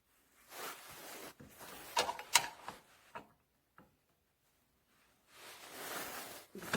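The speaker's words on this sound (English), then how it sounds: "It ratchets well enough." A DURATECH universal wrench ratchets on a bolt in short bursts of quick clicking, close and fairly quiet, separated by pauses.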